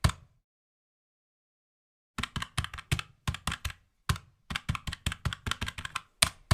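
Typing on a computer keyboard: about two seconds of silence, then quick close bursts of crisp keystrokes in irregular clusters as a short prompt is entered.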